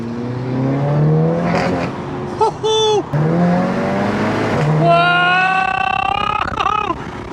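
A 440 bhp Audi TT fitted with a big turbo accelerates hard on a drive, its loud engine note climbing through gears with rising pitch sweeps and brief breaks between shifts, close and continuous.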